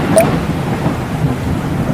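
Rolling thunder over steady rain in a Hindi cartoon moral story, a dense, continuous rumble and hiss with no voices.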